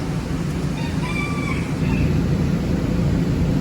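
Chickens at a live poultry farm, including white chickens, with a rooster crowing briefly midway over a steady roar of background farm noise, fairly close, no talking.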